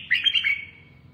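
A red-whiskered bulbul sings a short, bright phrase of several quick whistled notes up close, fading out after about half a second over a faint low background hum.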